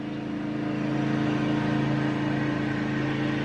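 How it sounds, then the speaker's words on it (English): A riding lawnmower drives down a residential street, its engine a steady, fairly loud drone with a constant low hum that holds without a break. "It is a driving lawnmower that this guy's just like driving"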